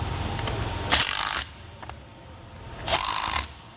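Ratchet wrench running bolts down on a 2007 Powerstroke diesel oil cooler, two loud bursts of rapid clicking separated by quieter mechanical handling and a brief click between them.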